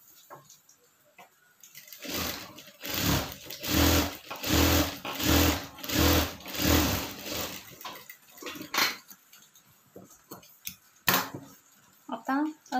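A sewing machine stitches the lining of a katori blouse in several rhythmic bursts of close, steady whirring, then stops, followed by light handling clatter.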